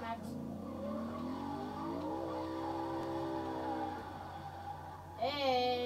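A drift car in a video game whines through rising and falling engine tones, then a sharp tire squeal rises near the end, mixed with a voice talking.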